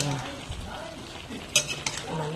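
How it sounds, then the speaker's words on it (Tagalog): Pinakbet vegetables get stirred with seasoning in a cooking pot, with soft scraping, a couple of sharp utensil clacks against the pan, and a light sizzle underneath, close by. "Mix yung ating pampalasa."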